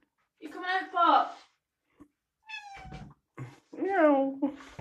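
A cat meows outdoors in the snow, several drawn-out, wavering calls separated by short pauses, loud and close, with a person's voice briefly between them.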